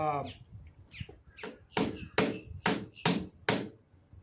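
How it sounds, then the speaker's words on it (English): A blue crab shell is struck repeatedly with kitchen shears used as a hammer, making about six sharp, close cracking taps in an uneven rhythm after some brief speech and softer knocks. "So what I've done here is just used the shears as basically as my hammer."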